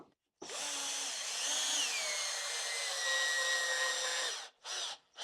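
A right-angle power drill whines steadily for about four seconds, driving a screw into wood while attaching a leg made from a single board, then two short bursts follow close by.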